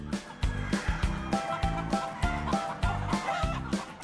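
Korean native chickens cluck close by in a steady, choppy stream of short, repeated calls that runs through the whole stretch.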